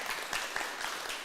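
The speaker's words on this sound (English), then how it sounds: "And a big, huge applause." Festival audience applauding after a talk, steady dense clapping that fills the short moment, fairly distant and even without standout cheers.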